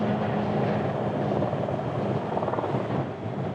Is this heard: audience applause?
no